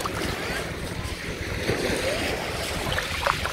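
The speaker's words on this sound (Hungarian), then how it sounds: "ez egy kis szél van, akkor vannak hullámok" Small waves lap steadily against a shore or boat as a light wind blows, a soft continuous wash with faint splashes, fairly quiet throughout.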